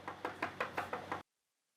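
Six sharp knocks on a door in a steady, quick rhythm, close and clear, then abrupt silence; no talking.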